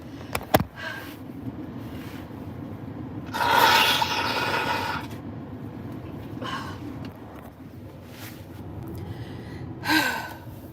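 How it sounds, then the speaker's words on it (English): A forceful nose blow in a quiet room, a loud rushing snort lasting about a second, followed later by a second shorter blow. "I gotta blow my nose again"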